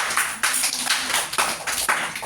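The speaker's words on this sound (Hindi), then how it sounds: "शाबाश, ताली मारिए इस बच्चे को।" Schoolchildren in a classroom clap for a classmate after a correct answer, a quick burst of brisk, uneven applause from a small group lasting a couple of seconds.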